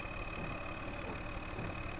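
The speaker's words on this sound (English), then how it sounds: "let's fire up this tractor" A tractor engine runs in Farming Simulator 2013, a steady, even idle drone held close and constant throughout, with no one talking.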